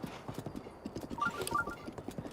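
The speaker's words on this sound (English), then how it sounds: "See, I'm not sprinting right now, so the horse is just kind of doing its own thing." Horse hooves clip-clop steadily on the ground as a rider travels in The Legend of Zelda: Breath of the Wild, a continuous rapid rhythm at moderate loudness with a brief whinny midway.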